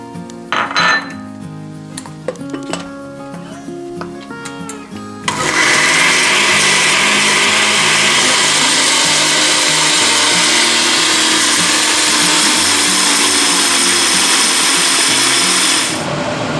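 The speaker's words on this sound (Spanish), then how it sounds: "vamos licuando el pan que hemos remojado con la leche" Blender whirring through milk-soaked bread and walnuts, preceded by a few clinks of dishes and utensils, then a loud steady motor roar for over ten seconds before cutting off.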